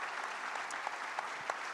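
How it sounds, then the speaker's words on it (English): An audience at an innovation summit applauds entrepreneurs on stage, the clapping steady and dense throughout the brief moment with no talk over it. "let's give a round of applause to our great entrepreneurs up here"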